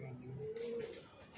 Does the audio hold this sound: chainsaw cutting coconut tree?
no